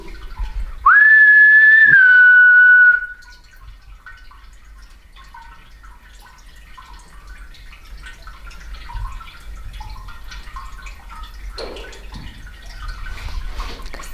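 One clear human whistle, a short rising-then-level note, sounds near and alone in an underground shopping arcade corridor, followed by quiet ambience and a faint knock.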